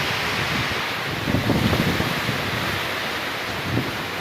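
Strong typhoon wind roars during relentless rain, with broad rushing noise and gusts swelling and easing throughout.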